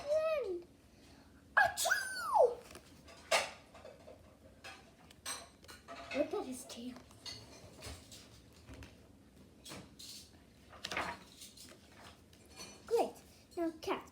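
A person sneezes in a few sharp bursts, with high childlike squeals and voices around them and small household clatters in between.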